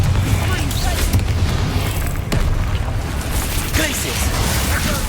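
Confringo fire spell explosions in the Hogwarts Legacy game, a loud continuous rumbling blast and booming over dense battle noise, with a voice calling out a spell name.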